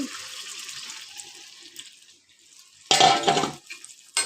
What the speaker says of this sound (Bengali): এবার আমি দিয়ে দেবো গামলাটা ধুয়ে একটু জল